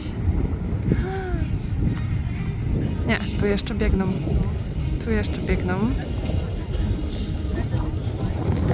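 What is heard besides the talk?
wind in the mountains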